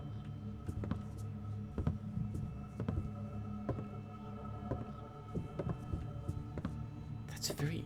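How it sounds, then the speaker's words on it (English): In the stealth video game Thief: Deadly Shadows, a low, steady throbbing like a heartbeat pulses through a secret room, with soft thuds repeating over a constant hum. "That's a very interesting sound, like a heartbeat."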